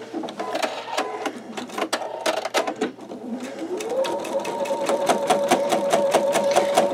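An embroidery machine stitches out a bumblebee quilt block, its needle hammering in a fast, steady mechanical rhythm that runs loud and close throughout, the motor pitch shifting midway as the stitching settles into an even pace.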